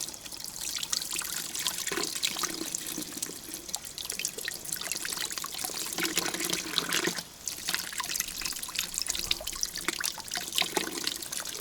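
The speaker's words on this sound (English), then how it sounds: "some people don't wash mushrooms, but you should wash them" Wild foraged mushrooms are rinsed under a running kitchen tap, with a steady close hiss of flowing water broken by uneven splashes and trickles as they are turned in the stream. No talking.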